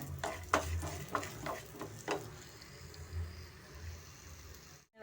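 Coriander seeds fry in a little oil, a soft sizzle with several quick stirring scrapes early on, then a quieter hiss over a low hum.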